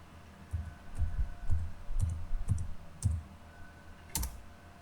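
A few computer keyboard keys are pressed while working in AutoCAD: soft, close clicks in a short irregular run, then one sharper press after a pause.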